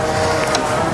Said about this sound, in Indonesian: ini kondisi angin di outdoor cukup kencang